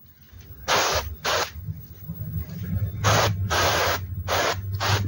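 An aerosol cleaner can sprays onto motorcycle spokes, firing about six short, close, forceful hissing bursts in two clusters over a low background with faint voice activity.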